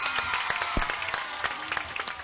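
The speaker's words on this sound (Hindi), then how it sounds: "तो एक बार जोरदार तालियां बजाइए इन बच्चों के लिए" An audience at an outdoor yoga gathering in Ramgarh, Jharkhand claps for children, a brief patter of scattered applause with fairly distant, uneven hand claps.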